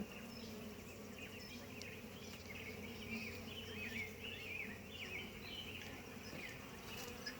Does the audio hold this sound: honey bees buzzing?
yes